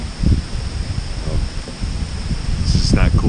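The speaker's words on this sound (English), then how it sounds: "that wind is whipping" Strong wind whipping across open public land during a whitetail archery hunt in Iowa, a steady buffeting roar against the microphone with gusty surges, loud and close, no voice heard.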